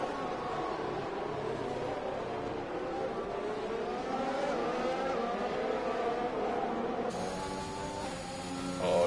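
Race cars running close together in a racing video game, several engines droning and shifting pitch in overlapping whines, with a faint mechanical buzz near the end.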